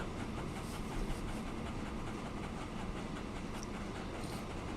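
A freight train rolls along rails in the rail-management game Transport Fever 2, giving a steady, dense rumble with faint clatter that holds evenly throughout, with no voices.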